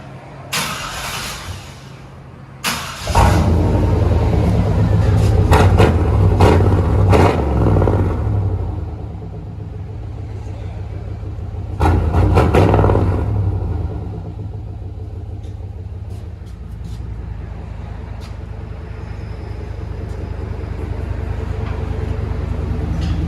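A Chevy/GMC 5.7L V8 with a loud aftermarket exhaust starts with a sharp bark, then revs hard in a deep rumbling roar. It settles to a heavy idle, with another rev burst midway, close and loud, with no voices.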